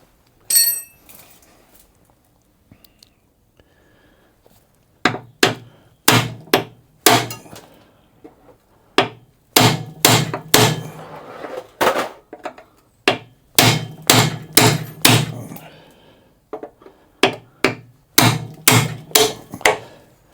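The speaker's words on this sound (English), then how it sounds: "So I'm now going to slice the top of these rivets off, because the aim is to remove the rivet head." Steady hammer blows knock the rivet heads off a car chassis in a V12 Speedster build, loud sharp metallic strikes in irregular bursts and runs, close and with no talk.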